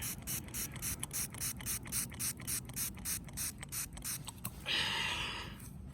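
A found silver coin gets squirted with liquid in a rapid run of short sprays, about a dozen quick pumps, close and crisp. A longer continuous hissing burst follows near the end.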